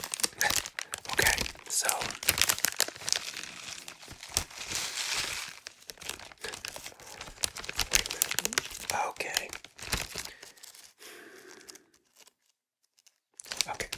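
A South Korean snack package is torn and crinkled open up close, with dense, loud plastic rustling and tearing bursts for most of the span, a brief quiet pause near the end, and soft speech at times.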